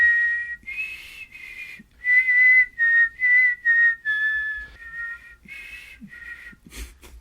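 A person whistles a melodic tune in clear, sustained notes with short breaks between phrases, close and fairly loud, with no talking.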